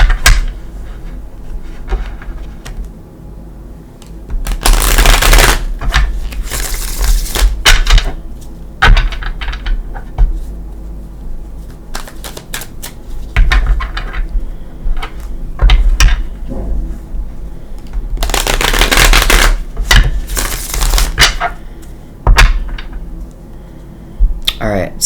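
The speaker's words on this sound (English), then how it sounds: "Give it a shuffle." Cosmic Tarot cards are shuffled in repeated bursts of quick riffling, loud and close, with pauses and occasional talk between the shuffles.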